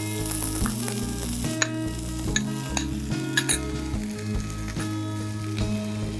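Onions sauté in a pan for horse gram curry, a loud continuous sizzle broken by repeated scraping stirs and metallic clinks of a spoon against the pan.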